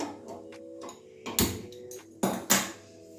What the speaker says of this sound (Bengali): গ্যাসটা ধরিয়ে নিচ্ছি।